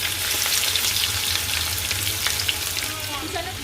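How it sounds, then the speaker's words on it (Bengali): Chopped onions fry in hot oil in a wok over a low gas flame while making green chicken masala, giving a steady, close, continuous sizzle throughout. "এবার গ্যাসের ফ্লেমটাকে লোতে দিয়ে আমি কুচানো পেঁয়াজ ছেড়ে দিচ্ছি"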